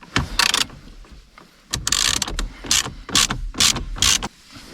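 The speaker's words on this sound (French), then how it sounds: "pour enlever les vis, vous allez prendre une Torx de 25" Torx 25 screws are being unscrewed on a BMW 1 Series F20, giving a close series of sharp ratcheting clicks in several bursts with brief pauses between them.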